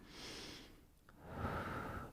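A single slow breath, close and quiet: an airy inhale followed by a longer, fuller exhale with a slight nasal hiss.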